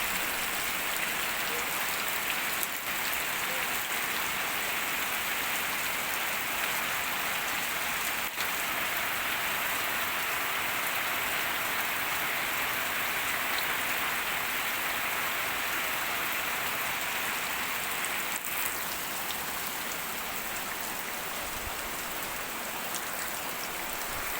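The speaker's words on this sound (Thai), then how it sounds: "ดีใจฝนตก" Steady rain falls on a home vegetable garden, a dense, even hiss of drops hitting surfaces that holds unbroken and close for the whole stretch, with no voices.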